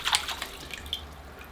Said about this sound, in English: All right, into the water the roots go.